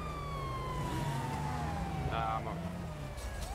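A police siren wails steadily in GTA 5, its pitch sliding over a rumbling engine, while people talk over it.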